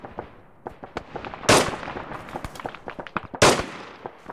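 Gunfire crackles in the video game ArmA 3 (Red Bear Iron Front), with scattered sharp shots popping at uneven intervals and two louder, closer reports standing out among fainter distant rounds.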